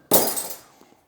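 A piece of red stained glass snapped off along a relief cut: one sharp, bright crack close by, followed by a short ringing glassy tail and a couple of faint tinkles as the piece falls away.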